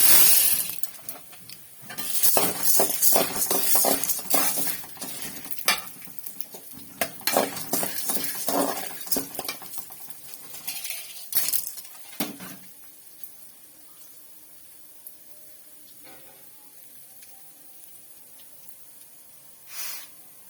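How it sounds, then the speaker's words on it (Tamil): Dry lentils (dal) poured into a bowl for dried drumstick-leaf lentil powder make bursts of gritty rattling for about twelve seconds, then fade to near quiet with a few small clinks. "இந்த பவுலால் ஒரு பவுல் பருப்பு அதை இதில் சேர்த்துக்கலாம்"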